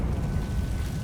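A Confringo fire-blast spell bursts in the video game Hogwarts Legacy, one short, deep rumbling boom with no talk over it.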